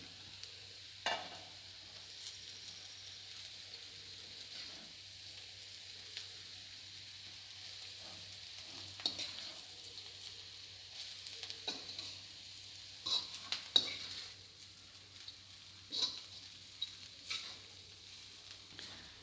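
Chopped leftover chapathi strips are tossed and stirred in a pan for noodles, with soft scraping and clinking of the spatula coming in scattered bursts over a faint low hum, fairly quiet throughout.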